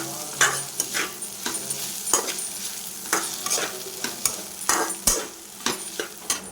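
Steady sizzling of food frying in a pan, with repeated scraping and clattering strokes from stirring at an uneven rhythm, close up.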